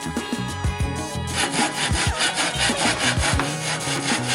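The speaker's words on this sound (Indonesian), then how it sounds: "kita menggunakan gergaji manual." A manual hand saw cutting through a small wooden board, first with short strokes and then settling into a steady back-and-forth rasping rhythm, close and clear with no talking.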